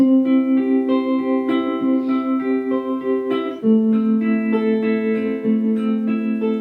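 Gentle fingerpicked guitar notes ring out one after another, sustaining and overlapping as the phrase slows toward a final resolving chord.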